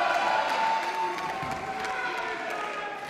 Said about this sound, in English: Crowd firmly behind the challenger.